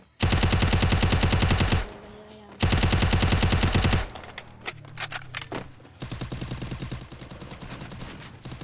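Gunfire in the Free Fire video game: long, loud bursts of rapid automatic fire alternating with shorter clusters of single shots, close and dominant.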